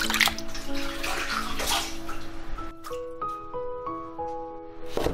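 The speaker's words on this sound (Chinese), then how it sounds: "冬菇先来清洗干净" Shiitake mushrooms are rinsed by hand in a basin of water, with splashing and sloshing close by. Brief drips and clinks follow as the washing slows near the end.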